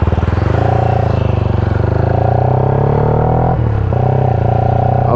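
A Yamaha Y15ZR motorcycle engine runs after a rebuild, a steady close, loud idle hum that dips briefly as the revs drop near the end, then settles again.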